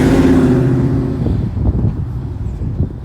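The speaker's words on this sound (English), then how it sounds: "Let this car go." A car drives past close by, its loud rush of engine and wind peaking at the start and then fading into a rougher, gusty rumble as it moves away.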